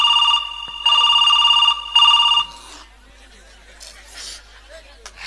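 A telephone rings with three loud, buzzy bursts in quick succession, then stops. Voices chatter and laugh quietly afterwards.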